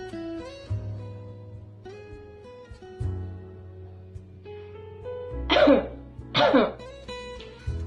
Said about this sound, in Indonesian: kita bisa menggunakan tisu atau sapu tangan saat batuk